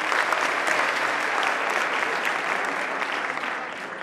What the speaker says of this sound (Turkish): Cihat'a tekrar bir alkış alabilir miyim?